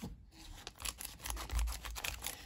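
Scissors snip through old cardboard photo mats in a series of close, crisp cuts with short pauses between strokes, alone without talk.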